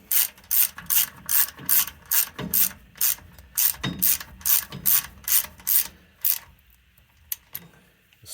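A ratchet turns a 9/16 socket on a Mopar 8 3/4 axle, giving a steady run of loud, close, rasping clicks in regular strokes that ends in a few scattered ticks.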